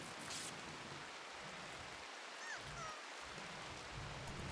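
Steady rain in the colony-building game RimWorld, a dense even hiss of rainfall with no gaps, moderately loud and continuing unbroken for the whole stretch.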